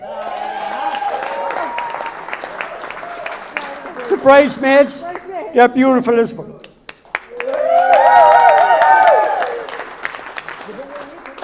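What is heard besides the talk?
wedding guests applauding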